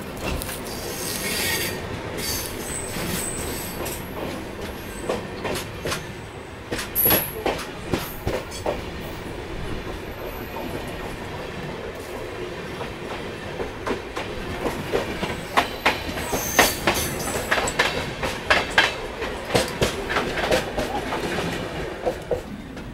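The Ratnachal SF express runs on the outer tracks near Visakhapatnam junction as the Bhubaneswar–Bengaluru express crosses, with close, loud rolling rumble, rhythmic clickety-clack of wheels over joints and occasional wheel squeals throughout.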